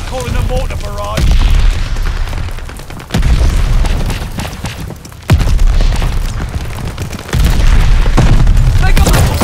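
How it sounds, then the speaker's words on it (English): Mortar barrage in the World War II shooter Call of Duty: Vanguard lands as a series of loud, close booming explosions, roughly four heavy impacts each followed by rumbling debris, with a voice shouting over the blasts. "Allies calling a mortar barrage!"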